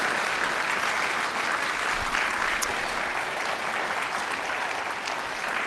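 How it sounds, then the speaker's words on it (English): Sustained, dense clapping from a large audience for a panel, steady and loud throughout without any talking. "could we please have another round of applause for our panellists?"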